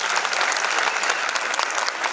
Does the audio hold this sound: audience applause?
yes